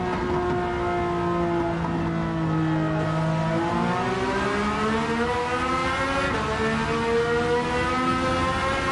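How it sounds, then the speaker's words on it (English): A flat-six car engine in Gran Turismo 7, played in VR, revving hard and steadily with a strong rising and falling harmonic whine through gear changes, loud and continuous, with no voices. "Now this flat 6 screams."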